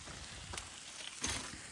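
Steaks sizzle over a campfire at a truck campsite in Acadia. A faint, steady frying hiss runs throughout with a couple of soft crackles, and no voices are heard.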